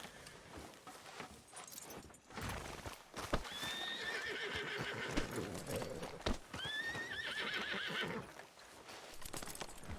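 Hooves clip-clop steadily while a horse neighs twice in shrill, whinnying bursts, fairly close, with faint murmuring voices in the background, in the video game Red Dead Redemption 2.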